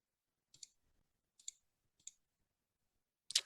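Mouse clicks on a settings gear button in the NEIS school administration web system, three quick paired clicks spaced apart followed by a louder, longer click-rustle at the end, otherwise near-silent.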